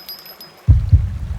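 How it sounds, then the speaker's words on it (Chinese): Heartbeat sound effect: a low, close double thump like a lub-dub starts abruptly after a near-silent opening, followed by a second deep beat and a lingering soft rumble. "心跳声"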